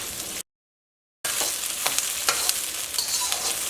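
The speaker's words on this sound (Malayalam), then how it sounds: "ഈ സവോള നന്നായിട്ട് അങ്ങോട്ട് വഴറ്റിയെടുക്കാൻ വേണ്ടിയിട്ട് നിൽക്കണ്ട." Onions sauté in a hot pan with a bright crackling sizzle and a few stirring scrapes, briefly cut to silence near the start before the frying resumes.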